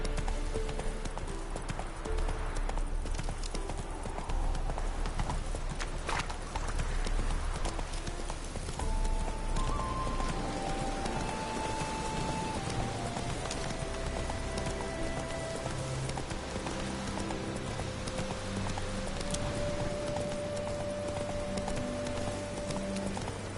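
The horse Roach in The Witcher game gallops with a brisk, continuous clip-clop of hooves, steady and fairly close, while light rain patters in the background and soft tones of a game soundtrack drift underneath.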